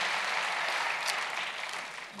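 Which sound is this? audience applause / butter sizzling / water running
audience applause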